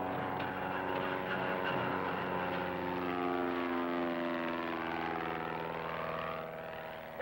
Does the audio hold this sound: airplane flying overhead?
yes